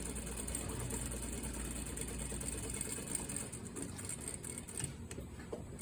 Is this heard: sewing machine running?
yes